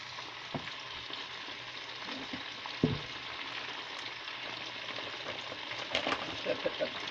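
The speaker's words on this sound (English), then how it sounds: "It was all sizzling." Pork and broccoli fry in a hot pan, giving a steady close sizzle with occasional stirring clatter and louder pops near the end, no voices.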